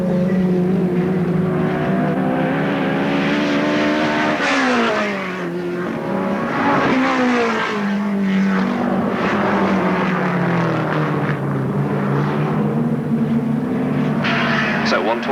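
Race cars roar around Alwalton Raceway in 1983, loud and continuous, their engine pitch rising and falling as they pass, with a commentator talking over them.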